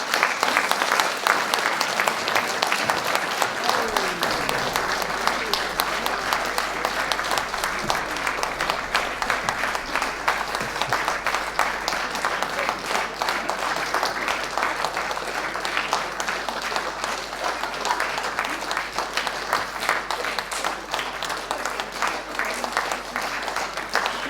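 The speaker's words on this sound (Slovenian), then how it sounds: "En aplavz, prosim." Long, steady audience applause as singers of a mixed choir come on stage at an annual choir concert, many hands clapping densely and evenly throughout, with faint voices mixed in underneath.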